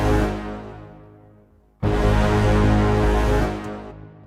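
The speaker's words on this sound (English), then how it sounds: "If you're not familiar with trailer sound effect sounds, a Brahm is basically what that sound is sort of like." Trailer-style braam sound effect: a massive low brass-like blast that fades, then a second loud braam hits and sustains before tapering off.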